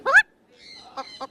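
A parrot imitates a chicken with a loud squawking call, then a faint pause and two short clucking notes, close and alone.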